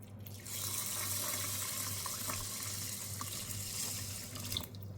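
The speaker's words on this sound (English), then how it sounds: "we're going to add our regular amount of water" Tap water pours steadily into a rice cooker pot, a continuous close hiss and splash with a low hum underneath, starting abruptly and holding even for several seconds.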